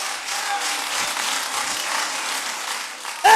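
A church congregation applauding, a steady wash of many hands clapping in a reverberant hall, fairly loud and continuous, ending with a brief sharp tone at the close.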